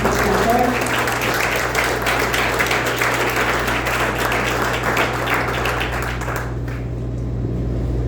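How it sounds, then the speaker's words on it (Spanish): A church congregation claps loudly and steadily in sustained applause, a dense wash of many hands with a low hum beneath, easing slightly toward the end. "Cuando pueden darle un fuerte aplauso al Señor, por favor."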